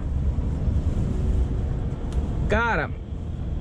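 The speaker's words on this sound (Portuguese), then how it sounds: "tá chovendo e ventando talmente tanto" Strong wind roars steadily across the microphone during heavy rain in England, a continuous rushing, buffeting noise. Someone speaks over it, and a brief whistling tone sweeps up and down near the end.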